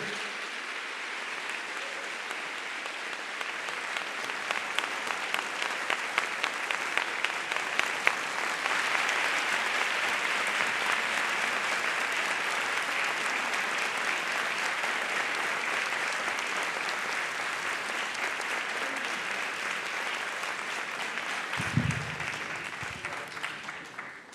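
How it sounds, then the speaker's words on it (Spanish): A large audience at the Bogotá Book Fair applauds to welcome guest Ingrid Betancourt, a dense, steady wash of clapping that holds for over twenty seconds, swelling slightly midway, with a brief low thump near the end. "les quiero pedir un fuerte aplauso a nuestra invitada Ingrid Betancourt, acompañada de Giuseppe Caputo"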